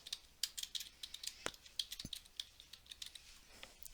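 Someone types a name into a Word document on a computer keyboard. The soft, close keystrokes come in quick, irregular bursts of clicks, with no talking.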